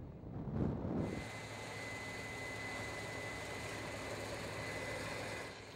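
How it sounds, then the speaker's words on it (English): A big diesel engine on a combine harvesting soybeans drones steadily and evenly at moderate distance, with a faint high whine riding over the low hum and no voices. "We harvest soybeans at the combine."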